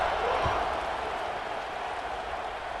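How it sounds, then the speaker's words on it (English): A stadium crowd in the video game EA Sports College Football 26 buzzes as a steady, broad roar after a score, a constant wash of noise with a brief thump near the start. "this crowd is buzzing after that last score"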